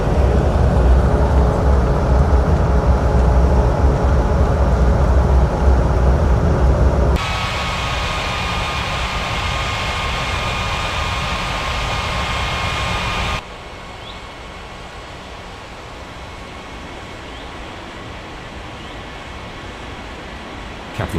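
An airliner takes off in the air traffic control game Unmatched Air Traffic Control, a steady broadband engine roar that drops in two abrupt steps to a quieter, thinner hiss.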